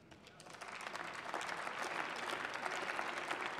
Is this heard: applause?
yes